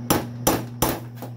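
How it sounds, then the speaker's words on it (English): A hammer taps a metal chute on a Brush Master wood chipper three times, sharp ringing strikes close by, evenly spaced, over a low steady hum. "tap it a little bit with the hammer here"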